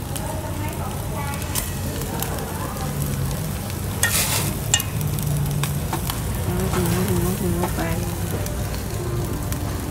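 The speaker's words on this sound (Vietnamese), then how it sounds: "Nhà mình có nướng thêm 5 cây nêm." Nem rolls grilling at home, a steady sizzle and crackle of meat over heat running throughout, with voices talking over it and a few sharper pops near the middle.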